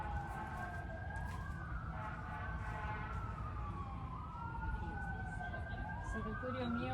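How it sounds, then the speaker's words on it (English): Multiple emergency sirens wail steadily in the background, overlapping sweeping tones that rise and fall throughout over a rumbling street din, with talking in the foreground. "there are lots of sirens in the background"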